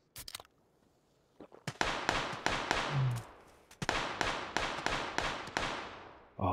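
PUBG gunfire from a bot, a string of sharp, loud cracking shots fired in quick irregular bursts after a quiet opening, each report ringing briefly, with no talking.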